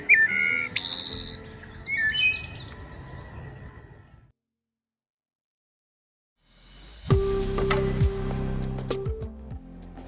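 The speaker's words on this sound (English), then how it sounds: "the wood thrush, which makes one of my favorite calls," Wood thrush singing in spring, with clear fluting phrases and chirps up front, a few seconds of silence, then bright tonal notes over a low background.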